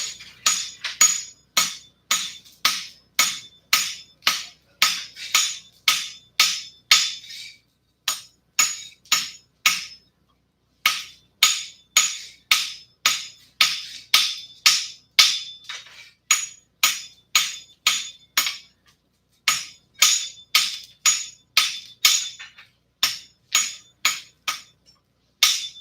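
A blacksmith hammers a tong piece on an anvil, ringing metallic strikes in quick regular bursts of about a dozen blows each, separated by short pauses, loud and close with no talk.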